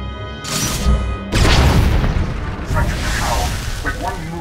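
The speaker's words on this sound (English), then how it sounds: "our flux cannons fire, and an Imperial capital ship is disintegrated" Flux cannons fire and an Imperial capital ship blows apart in a Star Wars: The Old Republic space battle over Ilum, giving loud, deep booming blasts and a rolling, crashing explosion that fills the whole stretch.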